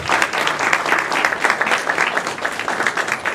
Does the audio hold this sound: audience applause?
yes